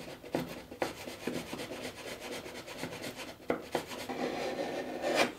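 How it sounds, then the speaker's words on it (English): A wooden clinker boat plank bevel being scraped away with a hand tool, giving steady, close rasping strokes in a repeated rhythm, with no one speaking. "Or scrape it away."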